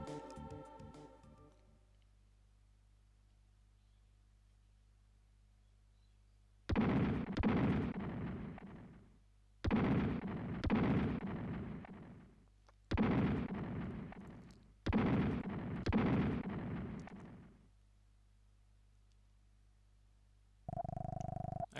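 Bombs exploding in the Terranigma video game: four heavy, evenly spaced blasts, each lasting a couple of seconds, over a low electronic hum, with a brief tone at the end.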